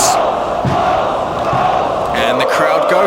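Crowd at a FWA British Uprising professional wrestling show roars and cheers steadily and loudly for the whole stretch, a dense, close, continuous wall of voices with no single speaker standing out.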